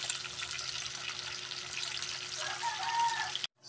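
Oarfish pieces with garlic sizzle in hot oil, a fine, crackling hiss running steadily at moderate volume with faint stirring, before the sound cuts off abruptly near the end.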